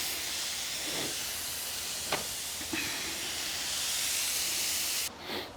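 Homemade pork belly and beef belly bacon sizzles in a pan with a continuous, even hiss and a few faint pops, heard close up with no voices.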